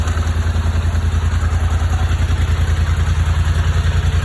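A 2019 Highlifter 850 ATV engine runs at a steady idle after starting, a loud, close, low rhythmic chug with clattering mechanical noise throughout and no talking.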